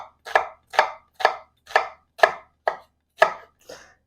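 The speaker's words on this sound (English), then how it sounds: "then you just with your knife chop them really fine" A knife chops onion finely on a cutting board in about eight crisp, evenly spaced strokes, close and clear with no talking.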